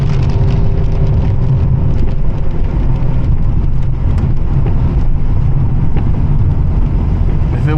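Steady rain pours while a car drives through it, a dense continuous rumble of road and engine under a hiss of water, loud and close throughout with no talking.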